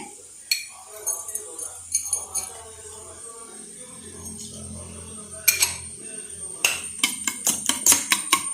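Egg mixture for a banana-flower omelette being whisked with pepper in a bowl, heard as quick metal-on-bowl clinks and scrapes in short bursts, closer and denser toward the end.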